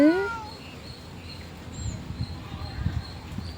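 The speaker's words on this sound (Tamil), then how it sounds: "இந்த பூனை வந்து அதை சாப்பிட்றதுக்குனே வந்திருக்கு" A cat gives a single short meow right at the start, followed by quiet room sounds and faint soft shuffling.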